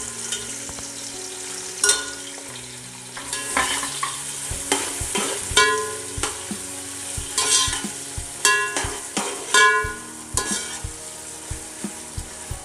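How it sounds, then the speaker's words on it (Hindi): Four medium onions, finely chopped, fry in hot oil for a chicken biryani, a steady sizzle broken by repeated scraping stirs of a spoon against the pan, loud and close with no talking. "अब डाल देते हैं हम 4 मीडियम साइज़ की प्याज है हमने, जिनको बारीक काट ली है और इनको हम फ्राई कर लेंगे"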